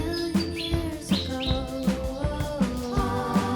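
Birds chirp and call from an avocado tree, with short bright tweets repeating in an uneven rhythm over a dense, busy background; no one speaks.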